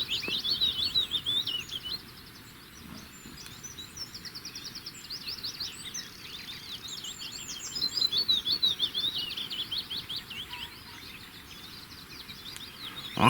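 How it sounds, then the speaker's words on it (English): Birds chirp and tweet in repeated quick phrases from a tree, fairly close, over a steady outdoor background hum with no talking, at a wild camp in the Peak District. "I can hear the birds tweeting in the tree"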